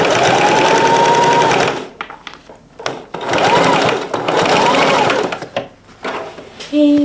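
A home sewing machine running steady top-stitching along the top edge of a fabric sewing machine cover, sewn with white thread, in loud bursts of continuous whirring separated by short pauses and handling noises.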